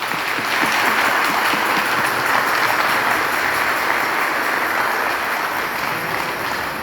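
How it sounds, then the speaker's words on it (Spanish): A congregation at a talk on the Nican Mopohua gives a round of applause for the Virgin of Guadalupe, dense and loud clapping sustained evenly throughout. "Un aplauso a la Virgen de Guadalupe."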